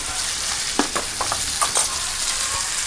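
Small spoonful of ginger sizzling in hot oil in a pan while cooking Kerala egg thoran with shallots, a steady close fry broken by a few short scraping stirs, no talking.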